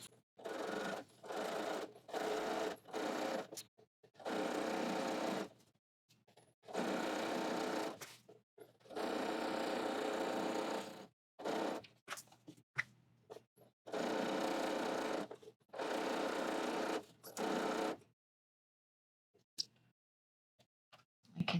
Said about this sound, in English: I'm going to sew all across the lower edge of the pocket.